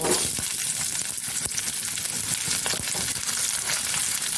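Sliced onion fries in a hot pan with fennel, ginger and garlic for a shahi paneer curry, hissing in a dense, continuous sizzle broken by scraping stirs.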